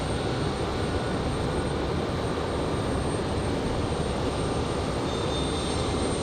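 A Southwest or United airliner landing at Raleigh-Durham International in the evening, with a loud, steady broadband jet roar of reverse thrust filling the whole span without letting up.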